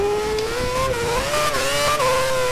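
A Formula 1 race car in the Formula 1 2011 video game drifts at the Shanghai circuit, its engine holding a steady high whine that dips and rises in pitch as it slides, loud and continuous with no talk.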